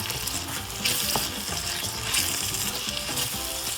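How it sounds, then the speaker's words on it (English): Chickpeas frying in a pot with curry and aromatics, a continuous bright sizzle with occasional stirring scrapes and clinks, close and steady with no talking. "I want my channa to fry down with the curry and all these aromatics that we"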